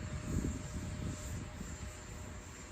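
A 3D-printed Viggen RC jet with active canards hovering, its engine a steady broad roar with a high whine, heard from a distance and quiet, with no voices.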